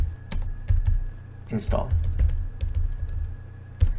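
Quick clicking keystrokes on a computer keyboard as a terminal command is typed into a VMware session, irregular taps and short bursts close by, with a voice speaking briefly over them.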